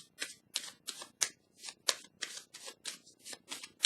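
Tarot cards being shuffled and drawn, a quick run of about a dozen crisp riffling snaps in a steady rhythm, close and clear with no talking over them.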